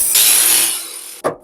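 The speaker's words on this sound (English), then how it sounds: "Again with a chisel, and I need to cut that there." A chisel cuts through rusted steel panel on an MG TF car, giving a loud, harsh scraping rasp for about a second, then a brief pause and one short, sharp final scrape.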